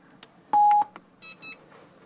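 A cruise control button on a Ford Ranger PK gives a short, clear electronic beep when pressed, close and loud, followed by a few faint clicks and two quieter chirps.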